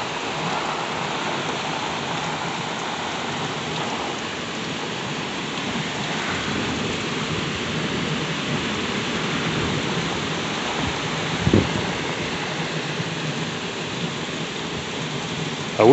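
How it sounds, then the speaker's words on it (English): A thunderstorm with heavy rain falling in sheets gives a dense, steady roar of rain throughout, with a soft thud of thunder partway through and no voices. "I love it when the rain comes down in sheets."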